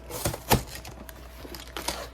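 Plastic bags from a Lego set box crinkle and rustle quietly in a few short, sharp bursts close by, with small crackles between them.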